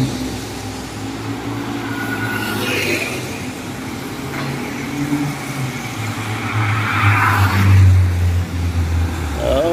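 Cars and other traffic speed along a road in Barrio Barretto, engines swelling and passing one after another close by, growing louder toward the end with a heavy vehicle rumbling past.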